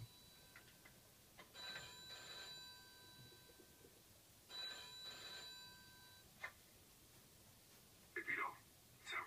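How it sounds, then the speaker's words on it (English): Telephone ringing in the Mafia 2 video game, repeated bell-like rings in bursts over a quiet background, with brief talk near the end. "Answer the phone."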